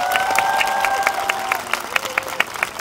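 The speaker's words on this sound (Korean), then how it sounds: "다시 한번 큰 박수 부탁드립니다" Audience at a concert claps and cheers in dense, continuous applause heard from within the crowd. Sharp claps ring out over sustained cheering, and a few shouts rise and fall.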